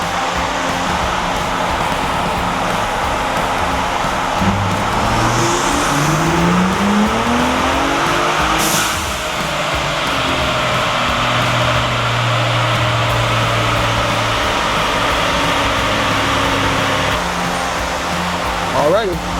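A tuned Ford Bronco Raptor engine works through a dyno run, a loud, sustained roar whose pitch climbs in repeated sweeps as it moves through the gears, then falls away near the end.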